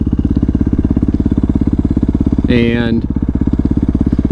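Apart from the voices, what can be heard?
Yamaha WR450F supermoto motorcycle engine running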